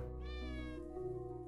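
A cat meows once in the video game Hidden Paws, a clear, sustained, tonal mew that slides in pitch and sounds close and alone.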